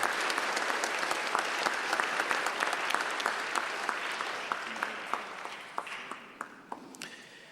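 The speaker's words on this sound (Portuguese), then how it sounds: "para quem eu peço uma salva de palmas" A chamber audience at a special tribute session gives a full round of applause in honour of a late professor, dense at first, then thinning toward the end as individual claps stand out.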